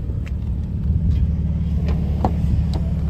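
BMW M3 Competition idling with a deep, steady engine rumble, close and continuous, swelling slightly as it is revved.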